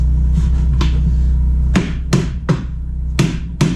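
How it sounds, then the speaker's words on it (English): Several sharp metallic taps drive the front wheel axle of a 2016 Kawasaki Z800 motorcycle forward, four to five close, loud knocks in an uneven rhythm over a steady low hum. "Tap the axle forward."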